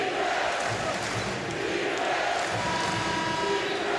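Loud, lively basketball arena crowd at an ACC men's college game between Louisville and Florida State, a dense, continuous roar of cheering that fills the whole space without letup.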